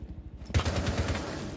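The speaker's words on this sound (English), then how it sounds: "I'm getting shot at." Rapid gunfire in the tactical shooter Rainbow Six Siege bursts in suddenly after a quiet start, a loud, close stream of automatic shots crackling on for about a second.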